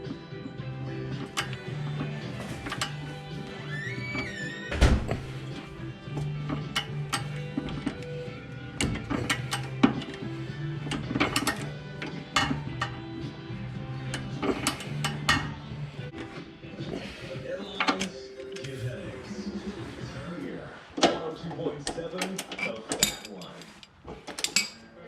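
Ratcheting and clicking of a torque wrench tightening Steeda Stage 1 drag pack parts on an S197 Mustang, a string of sharp metallic clicks and clanks up close at uneven intervals.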